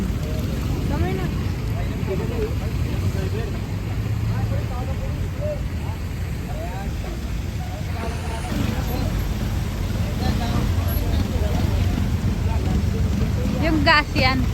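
A boat motor rumbles low and steady on the Pasig River, close by and continuous, while people talk over it throughout.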